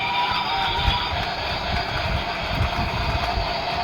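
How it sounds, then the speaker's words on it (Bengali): A toy train running on its track, giving a continuous close rattling, clattering rumble that holds steady throughout with no talking. "এই যে ট্রেন কি চলবে লাইনে আওয়াজ ছেড়ে ঢুকে গেছে"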